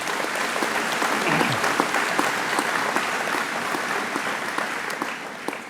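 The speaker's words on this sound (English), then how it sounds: "Let's give her a warm round of applause." An audience at a school speech night applauds warmly, a dense, sustained clatter of many hands clapping at an even level with no voices on top.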